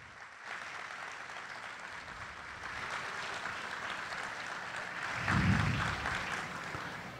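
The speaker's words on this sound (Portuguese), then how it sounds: "peço uma salva de palmas aos voluntários e colaboradores" An audience applauds volunteers and collaborators at the opening ceremony of a science fair, distant clapping that builds steadily and swells louder near the end.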